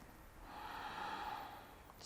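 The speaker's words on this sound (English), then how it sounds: "One more deep breath." A slow, deep breath drawn in and released during a morning yoga session, a soft airy hiss swelling over about a second and fading, close and quiet with no talk.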